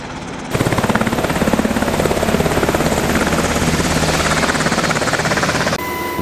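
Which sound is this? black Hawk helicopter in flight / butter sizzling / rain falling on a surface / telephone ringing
black Hawk helicopter in flight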